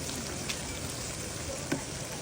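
Peas frying with masala in a pot while cooking Pakistani keema aloo matar, a steady soft sizzle throughout with a couple of faint stirring clicks.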